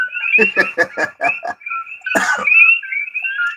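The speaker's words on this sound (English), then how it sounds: "The noise is the cokies. Those are our good cokie frogs" Coqui frogs calling at night in Hawaii, a loud, close, high two-note chirping repeated in quick succession with a burst of rougher noise partway through, no voices over it.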